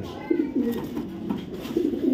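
A female black checker racing pigeon coos close by in soft, low, throaty rolls, several short phrases repeating over a couple of seconds.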